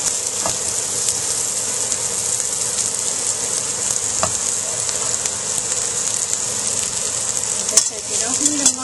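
Egg foo young frying in a pan with a little oil, giving a steady, close, loud sizzle with faint occasional clicks throughout.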